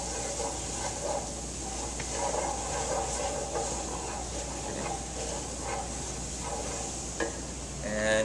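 Spices and herbs toasting in a hot pan as brandy reduces for butternut squash bisque, a steady soft sizzle and hiss with light stirring scrapes running evenly throughout.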